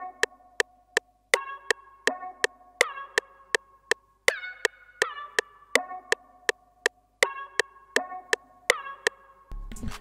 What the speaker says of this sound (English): It's like a weird ass pluck. It sounds like this.